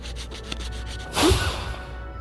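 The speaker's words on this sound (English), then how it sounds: "Fine 600 grit sandpaper is used to smooth the gown." A plaque's carved gown surface is smoothed with fine 600 grit sandpaper, a soft steady scratchy rubbing up close, swelling into one stronger stroke before fading out.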